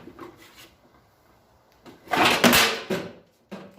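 The side cover of a Century FC-90 flux-core welder is pried open: faint handling noises, then a loud close-range scraping clunk of the panel coming free, and a short click afterward.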